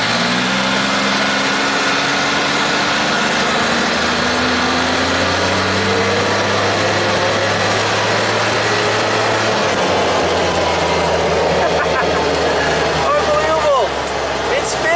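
A Kawasaki side-by-side accelerating on a speed test after a brake fix, its engine droning and rising steadily in pitch, loud and close throughout, with a brief whine near the end.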